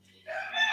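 A rooster crows once, its call rising partway through and carrying on to the end, heard from some distance.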